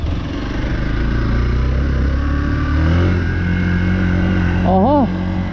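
A Hero XPulse 4V motorcycle engine runs on wet, slippery terrain with a steady, close mid-pitched drone that swells slightly in revs partway through, then a brief rising-and-falling tonal wobble near the end.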